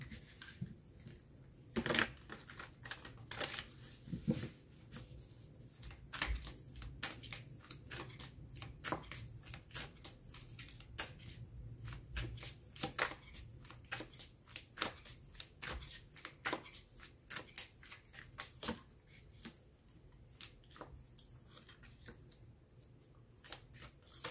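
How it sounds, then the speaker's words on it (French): Tarot cards being shuffled for a general reading, a dense run of crisp riffling flicks and soft slides repeating steadily and close up for the whole stretch, with no voice over it. "je vais faire un dernier tirage"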